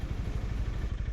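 A motorcycle engine idles steadily as the bike rolls along without stalling, giving a low, even, throbbing pulse that stays loud and close for the whole moment with no talking.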